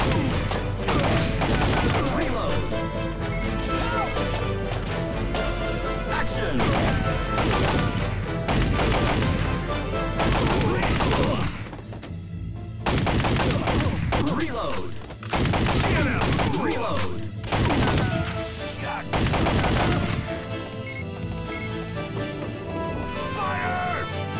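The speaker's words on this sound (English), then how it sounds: "How the sound of your gun changes within every location." Rapid gunfire from the Time Crisis arcade shooter running on a PlayStation emulator, loud bursts of repeated shots in clusters with brief pauses between volleys, alongside game voices and effects.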